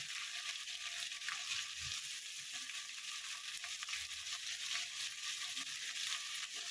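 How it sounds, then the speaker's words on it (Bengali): Chopped potatoes fry together with lightly fried prawns in a pan, giving a steady, even hiss of sizzling oil with occasional faint stirring bumps, soft and unbroken throughout. "আলু দিয়ে একসঙ্গে ভাজবো"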